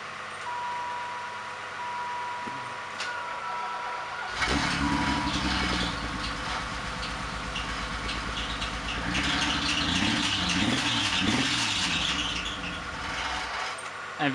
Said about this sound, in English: that's a squealing alternator in the engine bay.